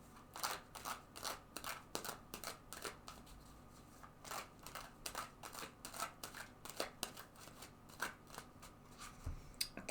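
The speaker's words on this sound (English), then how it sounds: "So let's just shuffle a couple more times now." A deck of tarot cards riffled and shuffled repeatedly, with quick crisp bursts of flicking and snapping in an irregular rhythm, close up with no talking.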